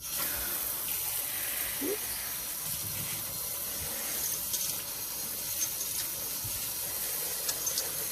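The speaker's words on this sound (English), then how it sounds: "we're going to use some cold water and we're going to rinse them off" Cold tap water runs in a steady, close gushing stream over raw chicken wings in a sink, with faint splashing as they are rinsed.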